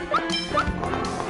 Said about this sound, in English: He's a good dog.